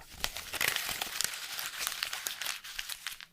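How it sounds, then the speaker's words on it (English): Torn paper is crumpled by hand close up, a dense run of crisp crackles and sharp crinkling snaps that continues steadily with no other sound. "after tearing the paper, I crumbled it"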